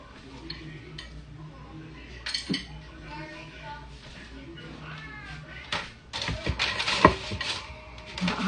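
Metal utensils clink and scrape against a baking pan while butter is dotted across the bottom, with scattered taps and a few sharper knocks near the end, mixed with talking.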